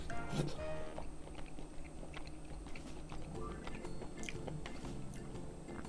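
Close, crunchy chewing and biting while eating clams in ramen, with steady wet mouth sounds and small clicks continuing throughout, no talking.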